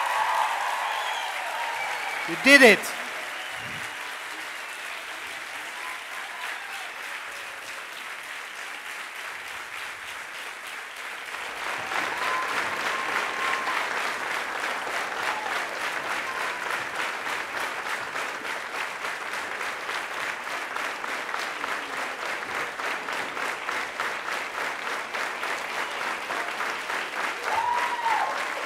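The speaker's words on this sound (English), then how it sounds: "A great big cheer." An audience at a graduation ceremony breaks into sustained applause with cheering, which swells after a quieter stretch and continues steadily; a brief spoken remark is heard near the start.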